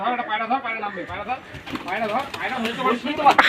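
A pigeon coos softly close by while people talk excitedly over it, the bird's low rolling calls partly buried under the voices.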